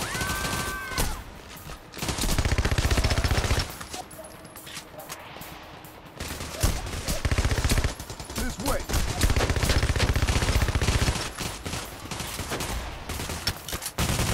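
Gunfire in the video game Payday The Heist crackles as dense, sustained bursts of automatic fire, loud and near, with brief lulls between volleys.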